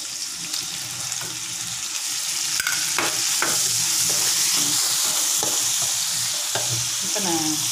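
Flat rice noodles for fried kuey teow stir-fried in a pan, with continuous sizzling and frying, scraping and clattering of a utensil, and a running-water sound mixed in throughout.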